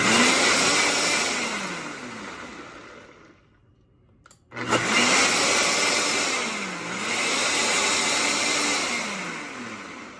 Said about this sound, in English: And the extract kind of pulses, but on its own.